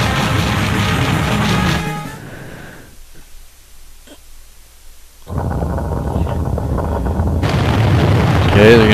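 A giant crumbles apart in a Final Fantasy IV (PSP) cutscene: loud booming, crashing rumble that drops to near silence midway, then surges back with heavy debris-like roar.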